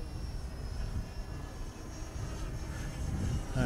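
A VQ Models Ju-52 RC model airplane flies overhead with its engine throttled back toward idle, producing a steady, moderately distant droning hum that swells slightly near the end.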